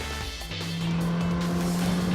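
Radical SR8 sports race cars at Donington Park, racing in the Masters class of the 2008 Radical UK Cup, give a loud sustained engine roar that swells as a car closes in.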